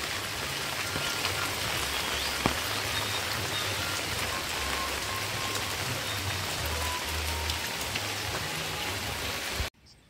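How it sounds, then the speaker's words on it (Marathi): Steady rain falls on a rice field during the Konkan planting season, making a dense, even hiss of drops that continues for about ten seconds and then cuts off abruptly. "पावसालाही सुरुवात झालेली आहे।"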